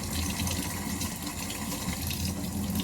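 A kitchen tap runs lukewarm water in a steady, close gushing stream that continues evenly throughout, with no talking.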